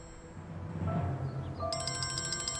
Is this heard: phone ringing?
yes